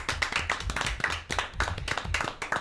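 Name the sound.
applause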